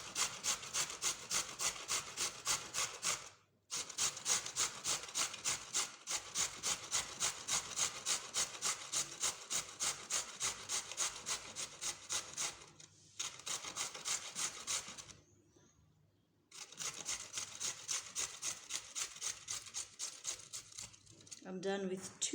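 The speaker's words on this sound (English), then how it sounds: "I'll continue doing the grating. It's so easy and fast when you use this grater." Carrots rasped against a hand grater in quick, steady back-and-forth strokes, close and loud, with a few short pauses between runs.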